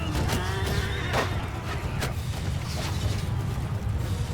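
A horse neighs amid a Mount & Blade II Bannerlord battle, whinnying loudly near the start over a dense mix of hoofbeats, clanks and thuds, with no talk.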